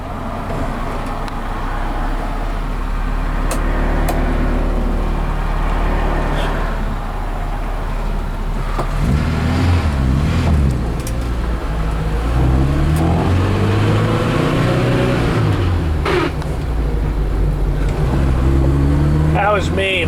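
A 1972 BMW 2002 engine drones loudly from inside the moving car, its pitch climbing and dropping as it revs through gear shifts on a test drive, with traffic noise behind it and someone speaking over it.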